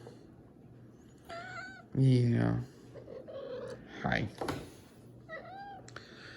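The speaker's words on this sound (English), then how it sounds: "She's a sweet kitty." A house cat meows a few times, some short and one louder drawn-out cry, indoors close to the microphone, with a person talking softly and faint background hum throughout.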